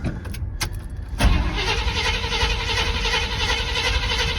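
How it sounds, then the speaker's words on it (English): A 1979 GMC half-ton pickup that has sat unused cranks briefly, then its engine catches about a second in and settles into a loud, steady running roar up close. "Let's see if she fires up first try."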